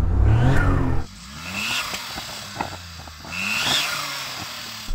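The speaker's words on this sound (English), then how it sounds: "Okay, so Daniel, go on, rev up your car." A kei car engine revs in a short Japanese kei car drag race setting, with a loud initial blip followed by a series of quicker, moderate revs that rise and fall.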